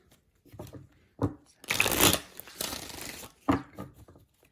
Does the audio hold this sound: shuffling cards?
yes